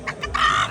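A human voice imitating a chicken, giving a couple of short clucks followed by a longer drawn-out squawking call, close and clear.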